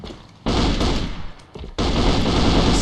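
M4 rifle fire in a competitive video game match, two sustained loud bursts of rapid automatic shots separated by a brief pause, close and harsh.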